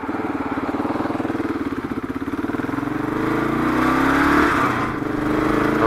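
A Kawasaki KLR 685 motorcycle riding along a road, its single-cylinder engine a steady close pulsing drone that climbs in pitch as it accelerates, then settles and continues without speech.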